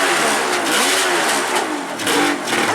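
A vintage Polaris Ultra triple snowmobile engine revving hard with no clutch fitted, a loud, close, rising mechanical roar that climbs quickly and holds high, sounding alone.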